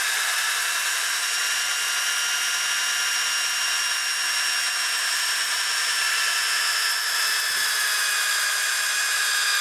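Sandpaper pressed against a wooden bowl spinning on a woodturning lathe gives a loud, unbroken whirring hiss that holds steady for the whole stretch, with no talking.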